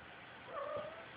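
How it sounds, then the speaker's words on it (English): A house cat lets out a single short, faint meow, rising and falling, near the microphone in an otherwise quiet room. "cat again gets in the way"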